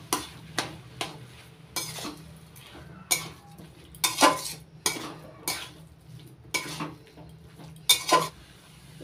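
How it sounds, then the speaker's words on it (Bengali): Grated coconut and sugar stirred in a pan, with a string of distinct scraping, clinking knocks of a utensil against the metal at an irregular rhythm, close and fairly quiet, with no talk. "এবার নাড়াচাড়া করে মিশিয়ে নিচ্ছি"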